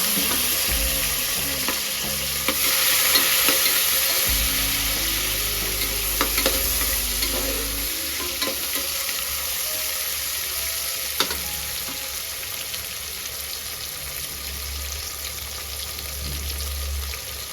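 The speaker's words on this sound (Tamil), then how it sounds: "வெங்காயம், சின்ன வெங்காயம், பெரிய வெங்காயம் ரெண்டுமே சேர்ந்து போட்டு நல்லா வதக்கணும்" Small shallots and large onions sauté in a pan for a traditional Tamil dry fish curry, giving a steady sizzle and frying crackle with occasional stirring scrapes and clinks, close and continuous, with no voices.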